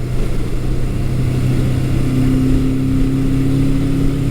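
A 1982 Suzuki GS750E motorcycle engine drones steadily while being ridden, holding a constant tone with wind rumble and no speech.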